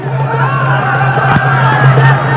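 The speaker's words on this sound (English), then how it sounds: "we just saw earlier some Palestinian fans in the crowd, and they'll make a bit of noise" Stadium crowd at a Sri Lanka versus Palestine football match with Palestinian fans chanting and roaring in a loud, sustained, distant wall of noise.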